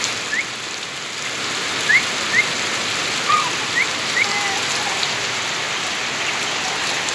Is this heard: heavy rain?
yes